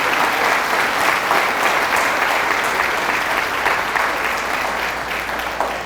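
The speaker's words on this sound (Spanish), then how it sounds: "Fuertes aplausos a la palabra proclamada en este lugar" A church congregation applauds after a Gospel reading, with loud, sustained, dense clapping that fills the whole stretch and tapers slightly at the end.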